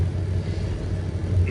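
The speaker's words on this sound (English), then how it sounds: "We are driving between two quite big rocks" A vehicle rumbles steadily at close range, squeezing between two large rocks on a storm-damaged forest track in Sweden, its engine a continuous low drone with no break.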